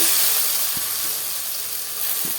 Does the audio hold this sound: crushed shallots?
yes